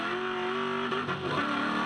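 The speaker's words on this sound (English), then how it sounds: "you heard the engine just screaming" A V8 Ute race car engine screams at high revs during a race at the Adelaide Clipsal 500 street circuit, a loud sustained whine that shifts pitch through a gear change, close by.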